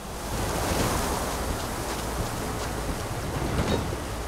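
Broadband rushing water of a waterfall in the video game Assassin's Creed Valhalla, a steady loud wash of spray and roar with no talk.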